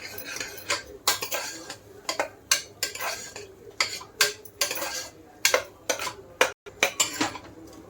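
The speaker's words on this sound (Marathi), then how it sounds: "ही प्युअरी बनवली टमाटरची ते पण टाकतो मिक्स करूया चांगलं" Tomato puree is stirred into pasta in a pressure cooker pot, with a metal utensil scraping and clinking against the pot in rhythmic strokes roughly twice a second, close up and without talking.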